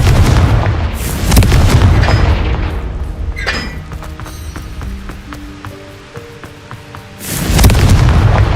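A Confringo spell blasts off with a loud boom and rumbling burst, then fades into a quieter stretch with faint crackles before a second heavy explosive blast rises near the end.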